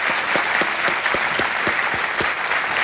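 Dense, steady clapping from a studio audience on the KBC quiz show, loud and close, continuing evenly without pause and with little talk over it.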